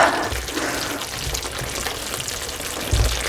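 Lamb mince and chicken curry mixed together in a pan on a hob, giving a steady, close sizzling and bubbling hiss with soft stirring movement throughout and no talking.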